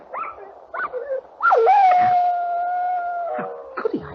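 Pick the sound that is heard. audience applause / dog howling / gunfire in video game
dog howling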